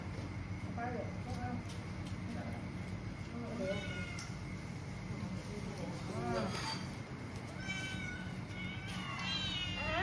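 A cat meows repeatedly, several distinct drawn-out cries scattered through the clip, fairly close, with people chatting in the background.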